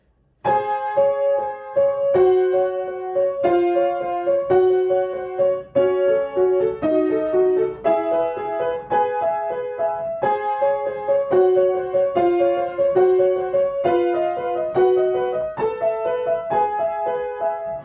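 Piano passage with quickly repeated notes and chords in a steady rhythm, played close and fairly loud throughout, with no talking.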